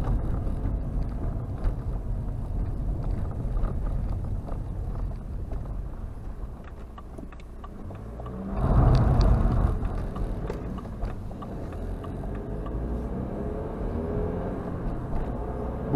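A BMW 118d E87 with a 2-litre 122 hp diesel engine drives over a badly broken road, producing a steady low rumble of engine and road noise with a louder thump-laden burst midway.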